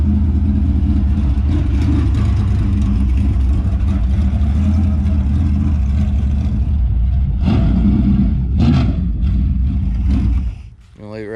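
A super late model race car rumbles through a victory lap, its loud, steady engine roar filling the air before dropping away near the end, with brief bursts of other noise.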